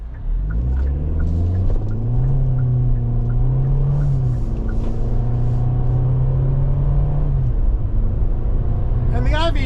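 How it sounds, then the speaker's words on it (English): A 2025 Hyundai Venue Limited with an IVT accelerates hard in manual mode, the engine drone climbing and dropping through simulated gear steps, loud and close, with brief talk near the end. "we are going to try to shift this like we have a 6-speed manual transmission on the floor."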